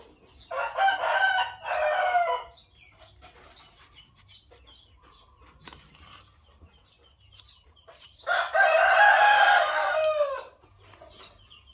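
Chickens and a rooster in a rural Thai village yard, with two loud, close crows about six seconds apart and quieter clucking and bird calls between them, no talk.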